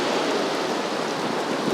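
Steady rain pours down across the World RX paddock in Portugal, a dense, loud, even hiss that fills the short moment with no pauses and no voices.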